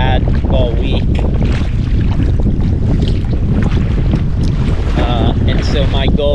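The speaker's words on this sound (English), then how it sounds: "This is the most wind and the most chop we've had all week." Strong wind buffets the microphone over choppy water during a sea kayaking trip in currents, a loud continuous roar with splashing and rushing water throughout; a voice is faintly audible at moments.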